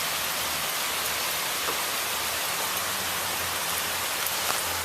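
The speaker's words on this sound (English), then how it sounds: "Good for the garden, all this rain." Rain pours over a garden in a continuous broadband hiss, drops pattering close by at a constant volume with no voices.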